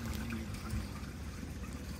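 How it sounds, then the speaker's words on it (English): RV gray water drains steadily from a dump hose at a station, a soft continuous trickle and gurgle with no voices. "our gray water is still draining and it's draining good. Got a steady flow"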